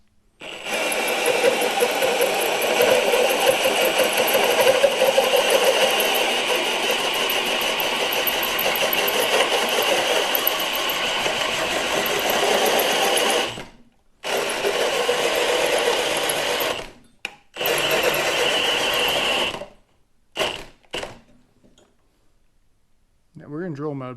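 A cordless drill in drill mode, fitted with a hole saw, whines loudly and steadily at high speed for about thirteen seconds, then stops and restarts in a few shorter bursts before falling silent.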